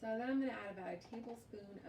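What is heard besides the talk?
No everyday noise stands out behind the speech.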